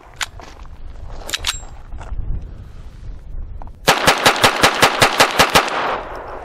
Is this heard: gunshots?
yes